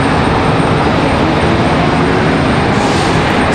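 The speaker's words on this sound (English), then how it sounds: "Spirit Airlines coming in from Newark" A Spirit Airlines airliner arriving from Newark at Charlotte Douglas airport makes a loud, steady broadband jet roar that holds evenly throughout, with no talking.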